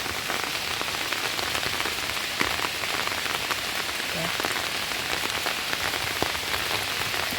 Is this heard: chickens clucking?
no